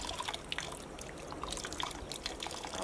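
Peeled garlic cloves are rinsed in water by hand, a soft continuous splashing and trickling with small irregular sloshes, close and fairly quiet.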